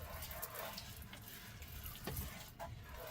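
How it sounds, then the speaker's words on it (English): Dish rinsed with a pressurized spray water bottle at an off-grid home, a soft steady hiss of spraying water with light splashes and clinks, faint and close by. "I wash my dishes with a spray bottle"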